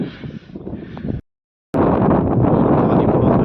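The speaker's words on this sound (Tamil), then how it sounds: "காற்று பயங்கரமாக அடிக்குது" Strong wind roars and buffets the microphone during a steep hill climb up a rocky temple trail, loud and continuous with a brief cut in the middle.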